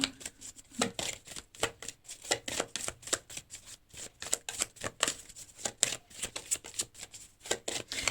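Tarot cards being shuffled and drawn, a rapid series of crisp riffling flicks and slaps in quick bursts, close and clear with no talking.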